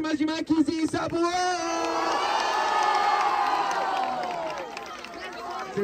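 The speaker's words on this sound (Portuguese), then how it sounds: "barulho quem gostou das rimas de Max e Sabuão" A crowd at a rap battle bursts into loud cheering and shouting after a few sharp calls, a sustained roar of many voices that slowly fades.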